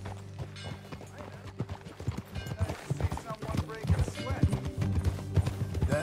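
Steady clip-clop of horse hooves at a walking pace in the video game Red Dead Redemption 2, with people talking over it and some music in the background.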